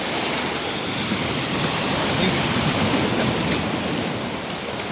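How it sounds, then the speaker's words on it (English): Small sea waves lap in a calm bay beside a salt farm, a steady, even wash of surf that fills the whole stretch without pause, moderately loud and close. "Such a nice quiet day today, isn't it? Not too many big waves."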